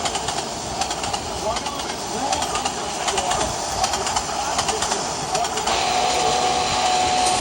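A runaway train speeding far too fast, a dense steady rumble and hiss of rolling stock with a brighter whine entering near the end, heard beneath narration.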